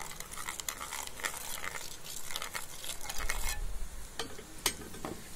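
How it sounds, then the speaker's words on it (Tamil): Boondi batter drops sizzle and crackle in hot frying oil while a ladle stirs through them, a steady close sizzle broken by scraping stir strokes. "இப்போ வந்து அதை வந்து கிளறி விடணும், இல்லைன்னா ஒன்றோடு ஒன்று ஒட்டிக்கும்."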